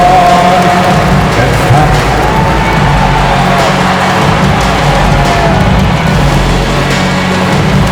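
A large basketball video game arena crowd in NBA 2K25 cheers and roars continuously, with scattered shouts rising above the dense wall of noise.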